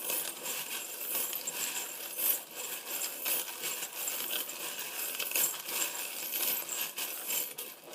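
Small metallic pieces clink and rattle continuously as they are jostled together, a bright jingling shuffle with no voices.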